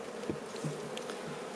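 A continuous hum of honeybees rises from an open hive, close and steady, with a couple of soft knocks and handling sounds mixed into the buzzing.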